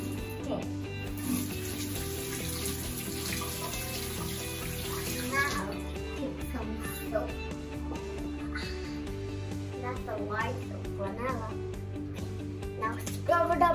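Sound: water running while washing hands

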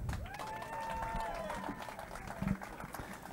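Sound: audience applause at a fishing tournament weigh-in

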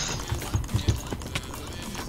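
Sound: horse sounds in Minecraft video game

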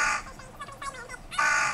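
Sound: crows cawing

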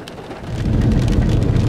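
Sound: heavy rain

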